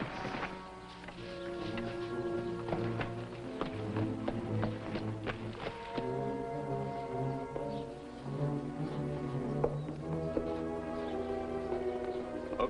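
Horse hooves clip-clop steadily in a 1950s TV western, a rhythmic patter under a sustained orchestral music score that swells and shifts throughout.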